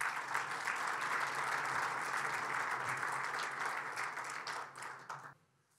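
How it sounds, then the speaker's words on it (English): Sustained applause from a conference audience at an automotive industry summit, many hands clapping in a thick continuous wash that holds steady, then thins and fades out in the final second. "All right, one more round of applause for John Waraniak, please."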